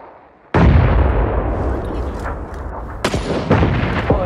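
Gunfire in the battle royale video game PUBG on the Sanhok map: a sudden loud blast followed by a long rumbling tail, then a couple more sharp shots near the end, with no voices.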